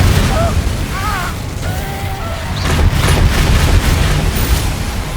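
An Incendio fire spell in Hogwarts Legacy goes off as a loud whooshing burst with a crackling flare, among other magical combat effects, with a voice shouting over it.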